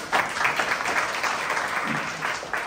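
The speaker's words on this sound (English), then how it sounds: "Round of applause for Natalie." At a human centred design meetup in the UAE, the audience applauds for a speaker, a sustained crowd clap at moderate loudness that holds steady for a few seconds.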